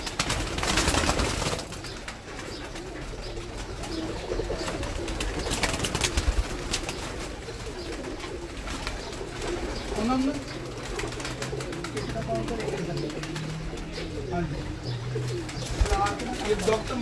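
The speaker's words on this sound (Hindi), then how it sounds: "ये डॉक्टर मिर्जा जमील साहब के लाल कबूतर हैं।" Lal Pari red pigeons cooing in a loft, soft repeated coos under steady background noise with someone talking over them.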